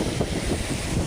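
Strong storm wind buffets the microphone over big sea waves off the Quezon Province shore, a loud continuous roaring rush with no talk.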